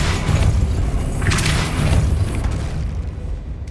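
The Depulso spell cast in Hogwarts Legacy, a loud, low, booming whoosh that rolls on for a few seconds and slowly fades, heard alone without talk.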